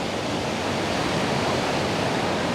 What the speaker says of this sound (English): So take in the sounds of the ocean.